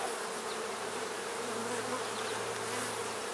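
Honey bees buzzing at an opened hive during a hive split, a dense, continuous close swarm hum with a steady low drone underneath.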